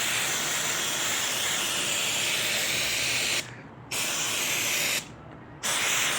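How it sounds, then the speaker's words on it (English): Aerosol can of WD-40 sprayed onto a bicycle, two or three steady loud hissing bursts close by, broken by brief pauses, with no talking. "You watch what happens when I spray this stuff on this thing."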